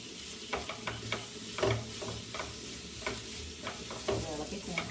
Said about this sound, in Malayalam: വെളുത്തുള്ളി ഇവിടെ അരിഞ്ഞു വെച്ചേക്കുന്നതാണ് അതും ഇഞ്ചി കൂടെ ഇട്ട് കൊടുക്കാവേ